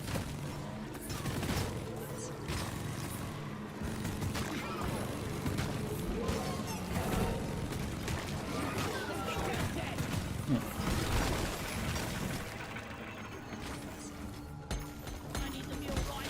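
Rapid six-round bursts of micro flechette gunfire in a Deep Rock Galactic-style dwarf shooter game, crackling repeatedly amid busy game noise for the whole stretch, with someone talking over it.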